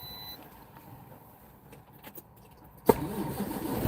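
A truck engine cranks and fires up after a quiet stretch, then runs with a close, steady rumble to the end.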